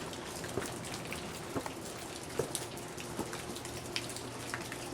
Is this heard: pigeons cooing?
no